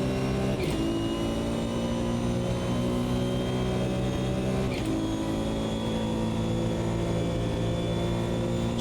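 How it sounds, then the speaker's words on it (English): Engine note of a GT1 race car in the Automobilista 2 racing game, a steady loud droning roar with strong harmonics, briefly dipping at two gear shifts before climbing again, heard alone without speech. "So the sound of the car is pretty nice, to be honest with you."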